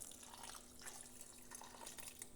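Water mixed with leftover tomato and sauce from the cans is poured into a pot of bean-free chili, a soft, steady liquid splashing and trickling with no talk.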